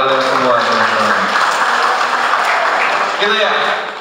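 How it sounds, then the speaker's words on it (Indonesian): A crowd at a British Night 4 concert in Cianjur applauds in a broad, steady wash of clapping and cheering, with a voice talking over it. "Tepuk tangan lagi buat kalian semua."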